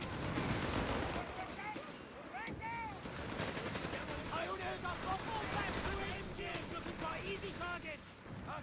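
Bursts of machine-gun fire crackle through a Company of Heroes 3 battle in the woods, dense and steady, blended with other battle noise, while voices talk over the fighting.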